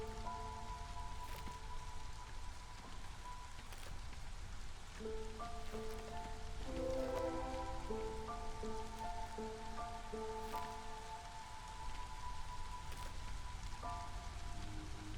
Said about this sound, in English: So we're still in drizzle.